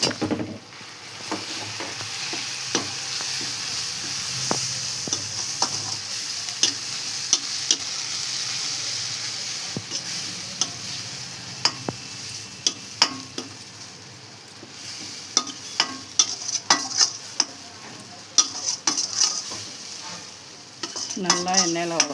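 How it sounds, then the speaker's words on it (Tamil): Steady sizzling of a paste frying in oil, with a spoon scraping and stirring in a pan, clicking and tapping irregularly throughout. "எண்ணெயில் நல்லா வதக்கிக்கணும்."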